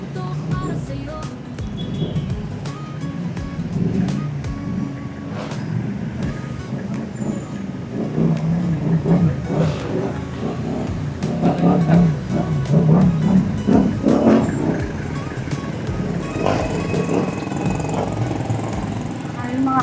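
Heavy road traffic rolls through Jaro town, with a steady rumble of buses, cars and trucks and passing engines swelling louder midway, while people talk over it.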